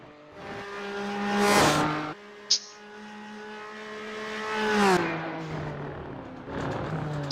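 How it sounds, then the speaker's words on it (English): A BMW race car engine in a GT4 racing video game, revving up through the gears with rising whines that drop at each shift, two strong pulls separated by a brief lift, heard up close and loud. "Still think that a BMW sounds a little bit like a can of marbles"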